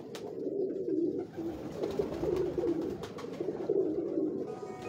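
Several pigeons of old pure breeds coo together close by, soft repeated throaty rolling calls overlapping continuously, with a few faint clicks in the background.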